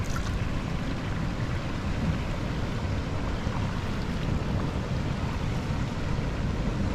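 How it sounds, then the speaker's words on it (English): Ocean waves breaking over a barrier and spilling into Brighton Salt Pond, a continuous loud wash of churning water with no distinct breaks and no voices. "how the waves break over and kind of fall into the pond here"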